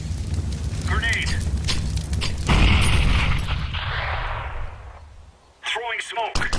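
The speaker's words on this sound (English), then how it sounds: "Grenade." A grenade bursts in a CS:GO match at a PGL Major Krakow 2017 game between Cloud9 and BIG, a heavy low boom rolling out over gunfire and game noise, with voices talking briefly before and after.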